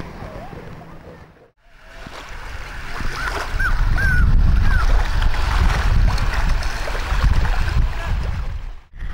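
Sea waves wash onto a beach near the Burj Al Arab in Dubai, a steady broadband rush that swells after a brief lull and stays loud and close, with faint voices and bird-like chirps in the background.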